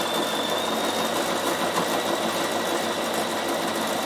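A sewing machine runs steadily while stitching a knitting bag with a zipper, giving a loud, even, continuous mechanical whir close up for several seconds with no voice over it.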